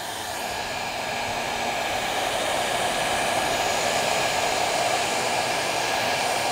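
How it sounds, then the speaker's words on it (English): A heat gun warming up before shrinking UltraCote covering on a model aircraft gives off a steady, close, loud blowing whoosh. The airflow roar holds unchanged for the whole stretch, with no talking. "So we'll let the gun come to heat"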